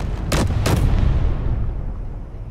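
An artillery cannon in Space Engineers fires two heavy, booming shots in quick succession, each a loud blast followed by a long rumbling decay that trails off with no voices.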